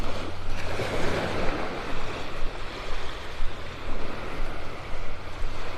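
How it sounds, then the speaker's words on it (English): Steady breeze from the south rushing across a North Naples, Florida beach on a morning walk, with surf washing continuously underneath and no talking. "Just a little bit of a breeze coming out of the south right now."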